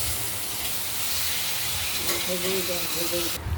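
Potatoes and Bengali vegetable stems frying in a pan for a rohu fish curry, a steady dense hiss and sizzle filling the whole stretch, close and loud, with a faint voice briefly under it.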